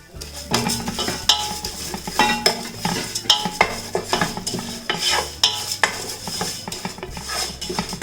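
Red rice flakes (aval) roasting in ghee in a pan with a spoon stirring, scraping and clinking steadily against the metal, close and fairly loud, with no one talking.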